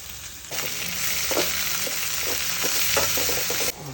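Tomato hits onions already frying in a pan for tomato chutney, bringing a sudden loud, close sizzle that holds for about three seconds with a few stirring scrapes, then cuts back.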